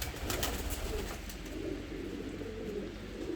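Soft, low cooing of pigeons in a coop repeats in gentle overlapping phrases, fairly quiet and close, against a faint background hiss.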